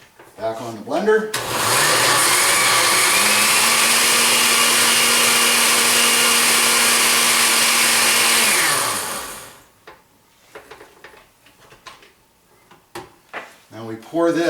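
A kitchen blender purees soaked chili peppers with some of their liquid for a red chili sauce, roaring steadily and loudly for about eight seconds before winding down. Clatter and handling noises come before and after the run.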